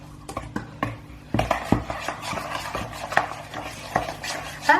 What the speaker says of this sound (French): J'ai plus qu'à mélanger avec ma cuillère et ça va vraiment faire l'affaire.